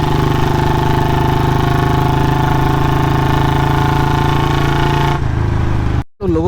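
A Royal Enfield Bullet Standard 350 BS3 motorcycle engine runs loud and steady at idle, a continuous throbbing exhaust note close by that briefly dips near the end.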